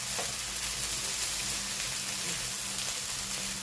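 Egg fried rice with soy sauce sizzling steadily in a hot pan, a dense, even crackle and hiss at moderate level with no pauses, heard close up and alone.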